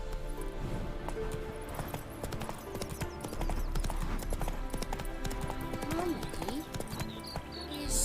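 Hooves of Geralt's horse Roach galloping in The Witcher video game, a steady clip-clop rhythm running throughout amid game music and ambience, with a voice speaking over it.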